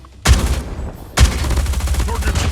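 Gunfire in the mobile shooter Call of Duty Mobile with the OTs 9 gun: two loud bursts of rapid shots, the second followed by sustained firing and some game noise.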